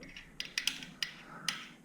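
A ratchet tightens the pinch bolts on a motorcycle front fork with a few quiet, separate clicks, close by and alone.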